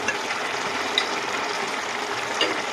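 A green banana kofta curry simmers in a pan, giving a soft, even bubbling and faint sizzle that holds steady throughout, close by with no voices.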